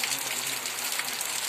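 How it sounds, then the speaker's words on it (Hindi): Heavy rain pours down steadily in a continuous broadband hiss over a monsoon-season rice-growing area, close and even throughout with no voices. "एक दिन बाद झमाझम बारिश शुरू हो गई है।"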